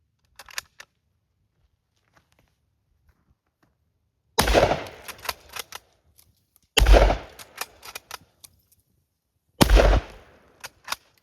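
Three loud, sharp gunshots from a Mossberg .410 bolt-action shotgun, spaced a few seconds apart after quiet handling clicks, each followed by a short ringing decay.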